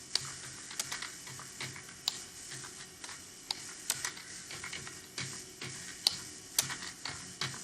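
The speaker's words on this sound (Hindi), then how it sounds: "आपको दिखाने के लिए मैं हल्के हल्के टाइप कर रहा हूँ।" Slow, light typing on a computer keyboard's home row keys, close, soft clicking keystrokes in an uneven, unhurried rhythm with brief pauses, alone without speech.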